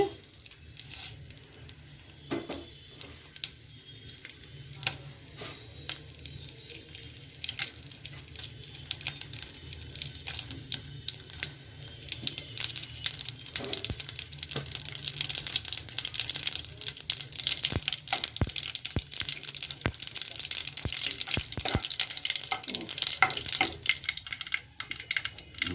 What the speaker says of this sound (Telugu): నూనె వేడెక్కినాక పోపు వేసుకోవాలండి.